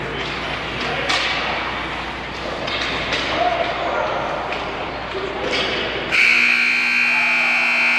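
A loud, steady period-end buzzer blares for the final two seconds of a youth squirt ice hockey game between Ames and Iowa City, cutting in over arena noise and a commentator's voice.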